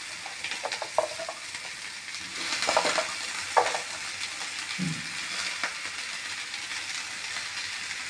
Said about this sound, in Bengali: এইগুলো আলু আর পেঁয়াজ একসাথে ফ্রাই করতে হবে, ফ্রাইটা হোক।